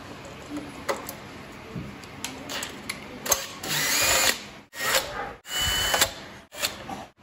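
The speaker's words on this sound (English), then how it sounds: "now we're gonna remove these four bolts using a T25" A power driver with a T25 bit backs out bolts on a Bird 2 scooter during a display conversion, giving several short, close whirring bursts with brief pauses between them.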